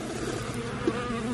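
A dense, steady buzz of many honeybees hovers close by at an open hive, a low droning hum with slight wavering pitch and no talk.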